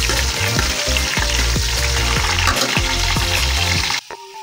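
Liver sizzling and frying in a pan with onion and garlic, a steady loud crackle broken by repeated scraping stirs, then cutting off abruptly near the end.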